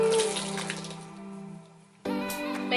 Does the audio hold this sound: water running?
yes